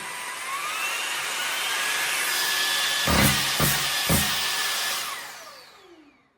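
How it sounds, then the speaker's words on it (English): A vacuum cleaner runs with a steady, close motor whine that holds level, with a few sharp knocks partway through, then winds down and fades out near the end. "let us put the vacuum to the real test on these oat flakes here"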